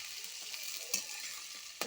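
Onion frying in a pan until reddish for a soybean bhaji, a continuous bright sizzle with two quick utensil taps, brief and without voices.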